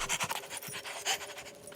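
A dog pants rapidly and rhythmically up close, quick breathy in-and-out puffs repeating without pause.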